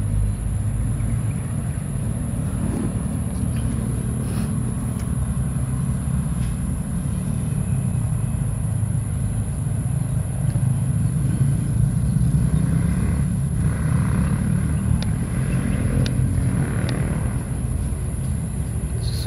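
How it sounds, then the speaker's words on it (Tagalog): Busy city street traffic with cars and motorcycles, a continuous loud rumble of engines and passing vehicles heard from above the road, steady throughout with no voices. "Kahit dito sa akin maririnig nyo yung mga sasakyan."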